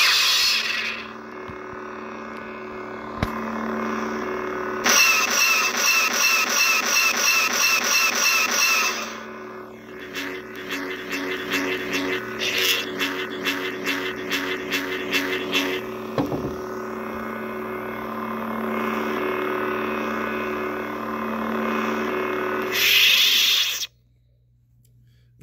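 A Saberforge V2 Heretic lightsaber with an SC 2.5 soundboard gives off a loud buzzing hum in bursts, with swings, pulsing flickers and clash effects, stopping abruptly near the end.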